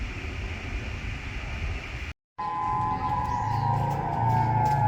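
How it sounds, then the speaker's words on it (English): An outdoor emergency warning siren sounding during its monthly test in Hawaii, a sustained wailing tone held steadily over broad background noise after a brief gap. "You can hear the testing of the emergency sirens that happens at 11:45 every Monday"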